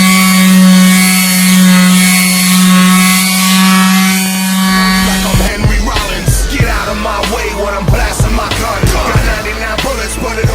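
Hand sanding of car body and bumper trim, a rough rhythmic scraping with repeated strokes that starts partway through after a steady tonal hum, loud and close with no talk.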